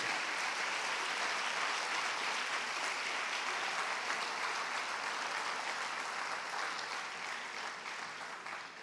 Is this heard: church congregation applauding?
yes